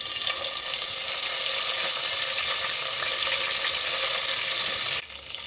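Curry leaves, fenugreek seeds, whole dried red chillies and cumin sizzling in hot oil for masala dosa, a steady bright crackling hiss that drops off sharply near the end.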